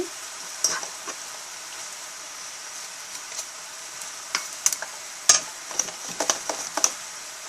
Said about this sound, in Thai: คนเลยค่ะ คนให้ ซอสเข้ากับผักนะคะ